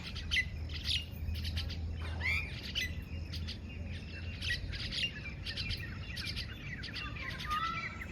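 Common mynas call at dusk in a village, with a scatter of squawks, chirps and harsh whistles over a low hum, fairly faint and continuous with no talk.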